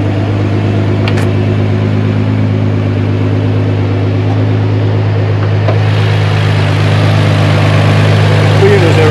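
A 1,100 hp Nissan GT-R R35 idles steadily and loudly up close, a deep constant drone with a lumpy low pulse running the whole time, with no other noticeable sounds over it.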